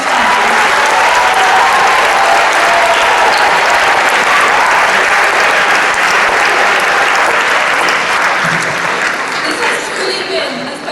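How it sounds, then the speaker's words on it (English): Sustained applause from a large crowd at a 2015 Model United Nations conference closing ceremony, steady and loud for about eleven seconds with a murmur of voices underneath, tapering slightly at the end. "So everyone, give your admin staff a round of applause one last time"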